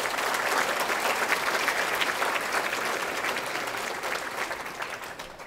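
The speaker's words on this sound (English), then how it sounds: "If you could all give them a round of applause." Sustained applause from a luncheon audience at a fall charity fundraiser, dense and steady throughout, fading slightly toward the end.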